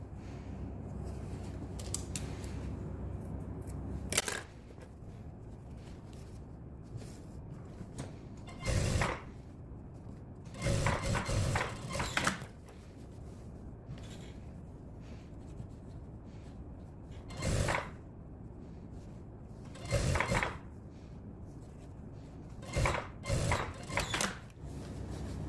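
A sewing machine topstitches two rows on a denim jacket in short, separate bursts of rapid mechanical whirring, each lasting a second or two, with quiet pauses between runs and no talking.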